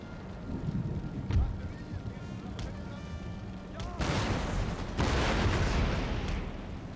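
Musket volleys in the Total War: Empire strategy game, several crackling bursts of gunfire over a steady battle din, the loudest barrages near the end, with a voice talking beneath.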